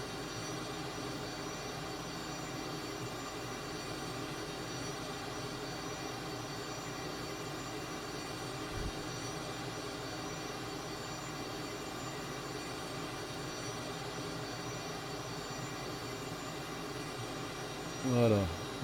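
Steady, loud broadband drone of a Cessna T-37 twin-jet trainer's engines heard from inside the cockpit in cruise flight, continuous throughout with a brief thump near the end.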